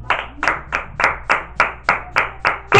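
Church congregation clapping in unison, about ten sharp claps at a steady rhythm, close and fairly loud, with no voices over it.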